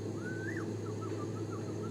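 A person whistles a series of short, sliding bird-like notes, imitating a birdcall, over a steady background hum.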